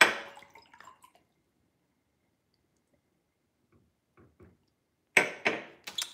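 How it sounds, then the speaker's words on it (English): Water drips in a quiet room: a few soft, separate drops land near the start, then a near, louder splash of several drips at the end. "It's water, you guys."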